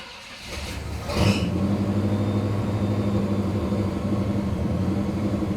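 A 1959 Pontiac engine catching and settling into a steady, loud rumbling idle after a brief rev, with no talk.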